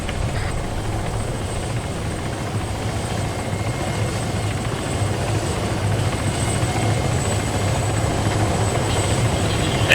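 A video game helicopter drones steadily with a low rotor thrum and engine whine, close and constant for the whole stretch, rising slightly in loudness toward the end.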